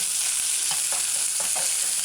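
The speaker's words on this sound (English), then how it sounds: "just kind of saute the scallion" Scallions sauté briefly in a pan for a pork pepper stir-fry, making a constant hissing sizzle broken by a couple of quick stirring scrapes.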